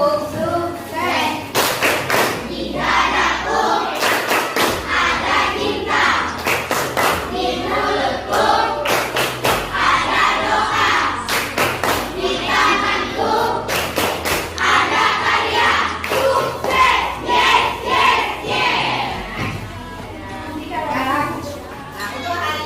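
Indonesian schoolchildren in a classroom perform a rhythmic clapping cheer, bursts of patterned claps and thumps alternating with chanted voices, close and lively throughout.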